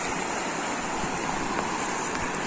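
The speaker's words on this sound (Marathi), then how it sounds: "ती बघा दुसरी होडी चालली" A fishing motor boat moves out on the sea, heard as a steady wash of water and surf noise with a faint low engine hum, constant and fairly distant.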